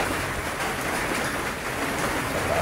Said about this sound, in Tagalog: Sobrang lakas ulan dito sa amin.